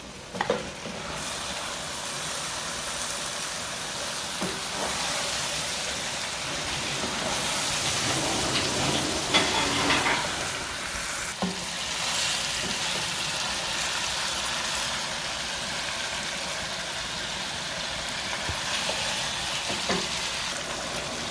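Chicken frying in a pan for biryani, a steady, rain-like sizzle that swells in the middle, with occasional clicks of stirring and no voices.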